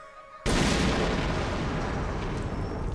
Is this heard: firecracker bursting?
yes